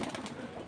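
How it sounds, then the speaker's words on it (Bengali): A brief burst of pigeons cooing, soft low throaty calls under a faint background voice. "এই যে কবুতরগুলো"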